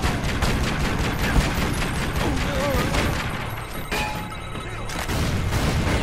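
Rapid bursts of gunfire from a weapon in the PC action game Tomb Raider Legend, loud and continuous with booming impacts, a voice briefly heard over the shooting.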